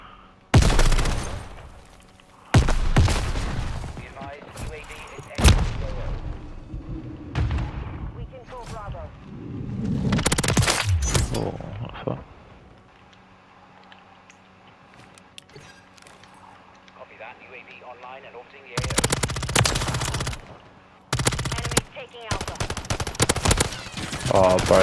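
Gunfire from an L1R1 rifle in a shooter video game, with loud bursts of shots in clusters separated by quieter stretches, mixed with game sounds and a talking voice.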